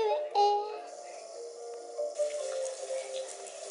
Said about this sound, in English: She's having a lovely shower there